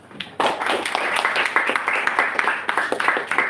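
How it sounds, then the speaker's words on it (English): At a Toastmasters club meeting, an audience breaks into applause after a faint start, building into a loud, dense wash of many hands clapping that holds steady, with individual claps popping through. "Please, one round of applause for each one of us."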